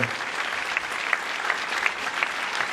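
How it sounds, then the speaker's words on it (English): A crowd claps continuously for a few seconds at a Tour de France 2016 stage podium, dense and steady, with a few sharper individual claps standing out. "sous les applaudissements"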